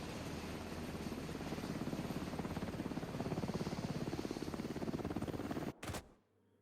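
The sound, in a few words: extraction helicopter in the video game The Division 2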